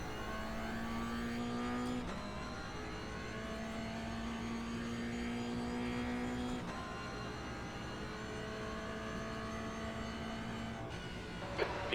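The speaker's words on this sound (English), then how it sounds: "All I do now is I bring the car home." A Toyota GR86 race car engine in a sim racing game, a steady droning engine note holding its pitch, with brief shifts at the gear changes, fairly faint and with no voices.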